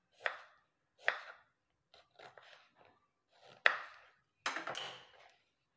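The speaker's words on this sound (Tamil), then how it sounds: "நல்லா கழுவிட்டு இதை நல்லா பொடுசாக கட் பண்ணி அதில் போட்டுக்கோங்க." Beetroot is chopped finely with a knife on a board, several distinct close chops spaced out with short pauses between them, heard alone without talk.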